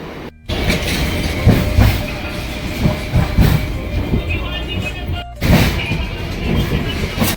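A train pulling into Panvel station, with a steady rumble and rattle of rail cars that continues throughout, broken by a short drop near the start and another near the end.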